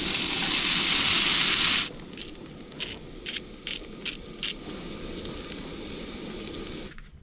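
Loud sizzling hiss of watery hash browns hitting a hot pan while camping in the desert, quickly settling into a quieter, steady frying crackle with occasional sharp pops and scrapes.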